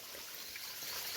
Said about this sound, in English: That is a mini spring for you.